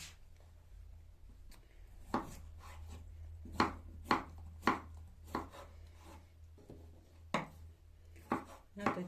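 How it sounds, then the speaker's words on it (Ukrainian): A knife chops fermented pickled cucumber into small cubes on a board, giving a series of sharp, separate, irregularly spaced knocks close by against a quiet background. "Цей квашений огірок я теж ріжу до цього соусу."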